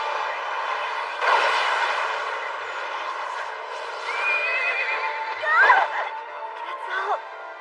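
A horse in an English-dubbed anime series gives long, wavering neighs against a background of other voices and sound, rising louder near the middle and end.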